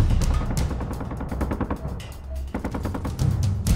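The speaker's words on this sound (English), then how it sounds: "I hear some gunfire." Rapid bursts of gunfire in the video game Space Engineers rattle continuously, with dense automatic shots close by and some heavier reports mixed in.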